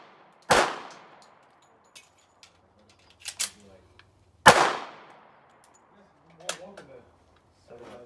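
Two sharp, loud gunshots crack out during rifle-to-pistol transition drills on a shooting range, spaced about four seconds apart, each followed by a short decaying echo, with faint metallic clicks and handling sounds between.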